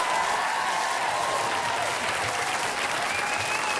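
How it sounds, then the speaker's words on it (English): Dense, sustained applause from a studio audience at a comedy panel show, loud and unbroken throughout with no individual claps standing out. "you've just applauded a round circle of rednecks"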